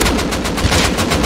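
AK rifle fire in Rust, a loud close burst of rapid automatic shots in a steady rhythm, about a dozen reports packed into a second with no talk over them.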